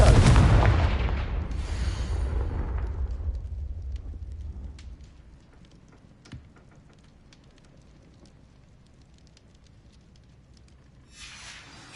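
A Confringo fire spell blast in the Hogwarts Legacy video game, a loud, close fiery boom at the start fading into crackling that thins to a quiet hiss, with a small pop midway and another burst at the end.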